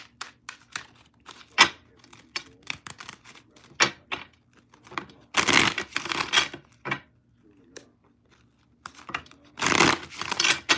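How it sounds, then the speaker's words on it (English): Tarot cards shuffled by hand in bursts of crisp riffling and flicking, with two longer dense runs of shuffling separated by quieter taps, close up with no talking. "One more shuffle."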